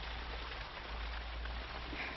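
Soft, steady rain patters evenly on a surface, a gentle continuous hiss with a low background hum and no voices.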